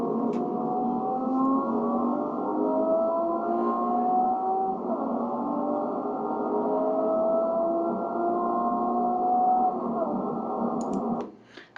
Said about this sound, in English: So that was the accelerometer on the chassis in the vertical direction actually converted over to audio.